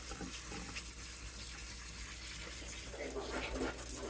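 Tap water running over an indoor plant during a rinse: a faint, steady rush of flowing water with some splashing near the end, and no talking.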